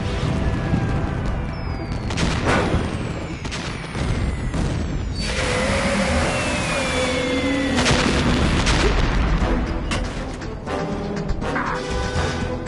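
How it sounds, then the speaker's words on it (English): Cluster bombs explode in Metal Gear Solid 2 in a long, continuous barrage of heavy booms and blasts, with whining mechanical and jet-like tones running over the explosions. "Cluster bombs."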